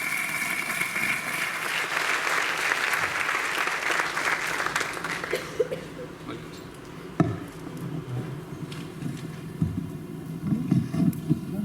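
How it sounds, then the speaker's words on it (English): An audience at a university induction programme gives a warm round of applause to welcome a speaker, loud dense clapping that gradually thins into scattered claps and room murmur. "Please put your hands together and welcome with a big round of applause, Bal Govind Prabhuji."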